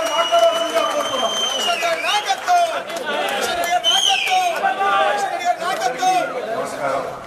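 A crowd of people with disabilities applauds a speaker at a wheelchair and device distribution event, clapping steadily throughout under lively chatter and cheering.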